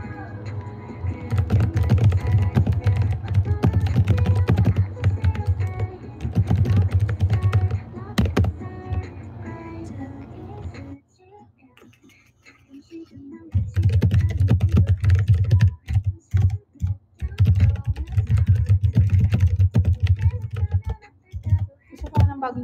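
Rapid, loud clattering on a new computer keyboard from a collection, in dense bursts that stop for a couple of seconds midway, then resume as choppier, heavier key strikes.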